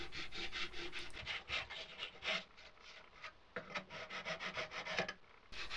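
A wooden book end hand-sanded to take off saw marks: quick, rhythmic back-and-forth rasping strokes close by, soft and continuous with brief pauses, no talk.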